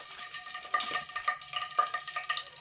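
Chilies and whole spices fry in hot oil in a pressure cooker, sizzling and crackling close by with a few stirring scrapes against the metal.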